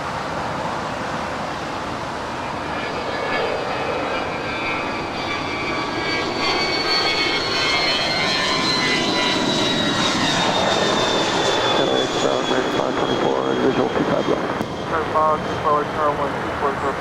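A Spirit Airlines Airbus A320 jet arriving at Los Angeles airport, a steady loud engine roar with a rising whine that builds and holds across the whole stretch, with faint talk underneath.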